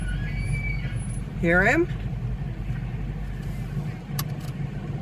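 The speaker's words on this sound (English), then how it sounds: "Did you just hear him bugle?" A bull elk with a large rack bugles in a visitor center parking lot, giving one brief rising, whistling call. Steady traffic-like rumble runs underneath, and a person speaks briefly.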